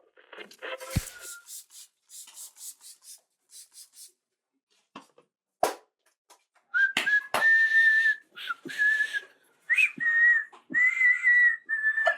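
Repeated whistling, short bursts then sustained tones at a steady pitch, with scraping and rubbing noises earlier and a sharp knock in between.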